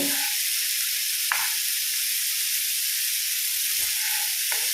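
Sardines frying in oil in a pan over a high flame: a loud, unbroken sizzle close by, with a few brief scrapes as the fish are turned, and no voices.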